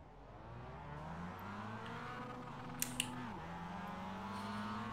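Mazda MX-5 race cars accelerating off the line at a race start, engine notes climbing steadily with a gear change midway, heard faint from inside the car, with two brief clicks partway through.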